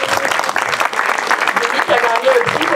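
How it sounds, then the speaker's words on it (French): A festival audience at a Montréal screening applauds filmmaker Rémi Fréchette, with brisk, dense clapping throughout and voices mingling over it. "On peut l'applaudir, Rémi."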